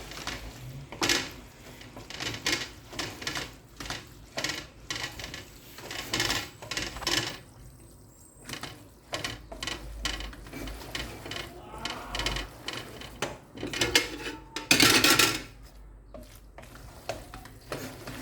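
Pasta being tossed and stirred together with carbonara ingredients in a pan or bowl, with irregular scraping, clinking and soft wet stirring noises, close and moderately loud, with brief pauses between bursts.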